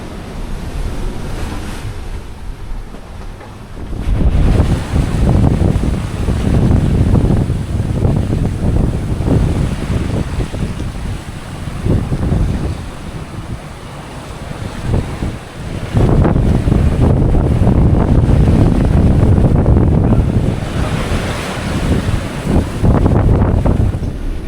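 Strong wind of about 34 to 36 knots at sea roars and buffets the microphone over crashing waves and surging water on a sailboat, loud and continuous with gusty swells.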